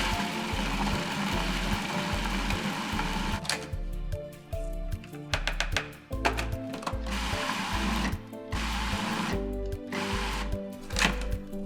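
A food processor pulses raw zucchini bolognese with fresh basil and olive oil in repeated short whirring bursts, a steady mechanical churn broken by brief gaps and restarts.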